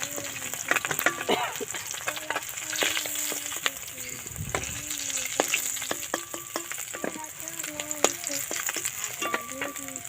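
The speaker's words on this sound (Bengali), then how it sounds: "মাছটা এবারে ভেজে লাল লাল করে ভাজা হয়ে গেছে" Fish frying in hot oil for a Bengali fish curry crackles and sizzles nonstop. Frequent sharp spatula taps and scrapes cut through the hiss throughout.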